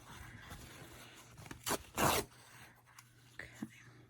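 Two quick ripping sounds of paper towels being torn off a roll, close by, with soft rustling before and after.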